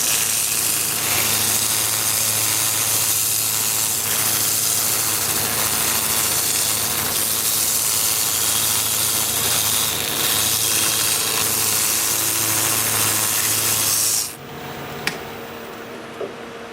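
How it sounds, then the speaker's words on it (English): Wood piece on a lathe being sanded with a Sandoflex sander, a steady loud whirring hum with rough scratchy friction running for about fourteen seconds, then the machine cuts off, leaving a brief click. "I can sand my piece right here on the lathe"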